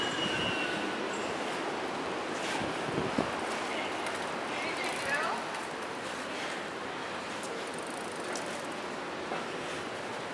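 A New York City subway train, the number 1 line near Houston Street, rumbles past steadily, with a brief metallic wheel squeal partway through and the roar easing off toward the end.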